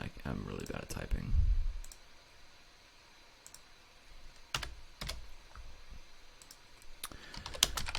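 Bursts of clicking keystrokes on a computer keyboard, fairly close and irregular in rhythm, with a low rumble near the start and gaps of near silence between runs.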